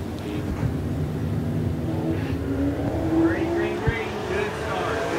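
Street stock race cars at Smoky Mountain Speedway getting underway in a heat race, engines droning and rising in pitch as they accelerate together, with a commentator talking over the noise.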